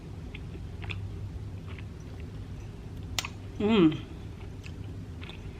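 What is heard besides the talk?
chewing hot cocoa cookie mug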